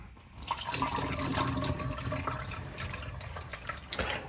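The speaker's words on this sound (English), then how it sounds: "I've got this to simulate some rainfall. Just going to pour it in there." Water splashes and trickles steadily as it is poured into a CoCoRaHS rain gauge, a continuous pouring sound with no talking.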